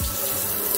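Water runs steadily from a touchless kitchen sink faucet, a continuous close hiss and splash filling the short moment with no talk.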